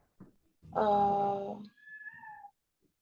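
Kittens meow close by, one long drawn-out cry followed by thinner, higher mews, with faint rustling before them and quiet afterward.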